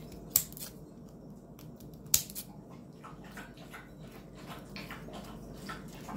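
Scissors snip sharply twice, near and crisp, cutting material for a whimsical Halloween cat decoration, with faint rustling and quiet background sound between the cuts.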